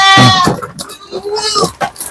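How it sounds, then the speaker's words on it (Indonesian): Female goats and their kids bleating on a breeding farm, with several overlapping wavering bleats close by, loud and repeated through the short stretch. "ini kambing-kambing betina kita beserta dengan anaknya ini"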